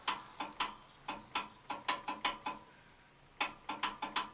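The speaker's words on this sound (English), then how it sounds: "Just clicks. So I think that's a solenoid." Starter solenoid on an MTD Yard Machines lawn tractor clicking repeatedly, a close series of sharp metallic clicks in uneven bursts with a short pause midway, heard alone without talk.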